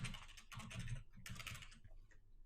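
Typing on a computer keyboard while entering a username and password for a database connection, quick bursts of clacking keystrokes in two clusters, fairly faint and close, with no talking.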